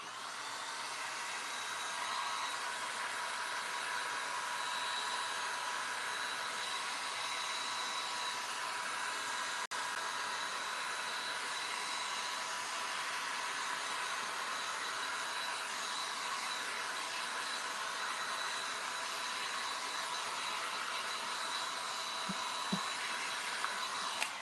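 A hair dryer runs steadily and close by, force drying a coat of milk paint on a flat surface, giving an even, continuous blowing whoosh for the whole stretch with no talking.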